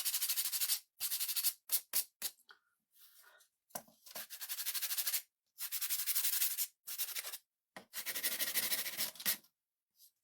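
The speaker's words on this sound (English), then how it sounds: "we're going to sand it up real good" Hand sanding a wooden scarecrow and pumpkin fall decor piece, with repeated close, harsh bursts of abrasive scratching that come in uneven strokes separated by short pauses.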